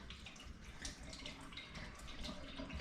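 Water sloshing and pouring out of a vintage glass bottle being emptied during cleaning, a steady close gurgling splash with no talk.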